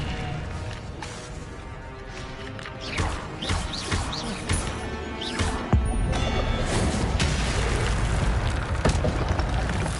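Incendio fire spell blast in a Harry Potter video game, a series of loud crashing impacts and whooshing bursts over a dense rumbling game soundscape, with a heavy hit near the middle and no talk.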